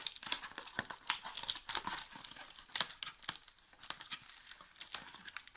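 Packing tape crinkles and tears in a quick, irregular run of close, moderately loud crackles and rips while being pulled from an RC rally car box, with no talking.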